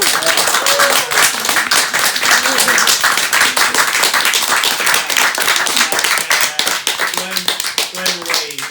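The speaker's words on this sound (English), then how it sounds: "I just want to do a big round of" Loud, scattered clapping from several participants on a Zoom video call among activists, uneven and overlapping, with voices talking and exclaiming over the claps the whole time.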